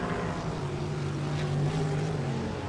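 Sprint cars race around a dirt track at a 1989 championship meeting in Meremere, New Zealand, their engines producing a continuous loud droning roar with no gaps.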